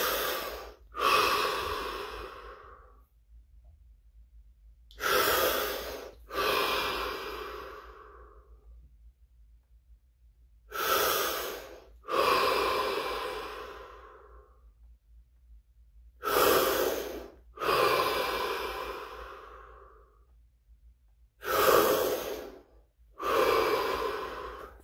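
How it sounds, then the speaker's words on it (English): Slow, deep breaths during a guided breathing exercise: five long inhales and exhales follow one another in a steady rhythm, close and clearly audible with quiet gaps between them. "Five deep breaths, followed by 30 seconds of absolute stillness and silence"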